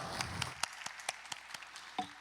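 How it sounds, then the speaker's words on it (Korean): A congregation applauds during a Sunday youth worship service at a church. Fairly faint, evenly spaced rhythmic claps follow a brief denser burst of clapping. "하나님께 영광의 박수 올리겠습니다."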